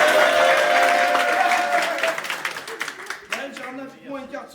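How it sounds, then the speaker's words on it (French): A studio audience at a lively evening show breaks into dense applause that starts loud and full, then thins into scattered claps as voices rise over the tail end. "On peut applaudir Maël."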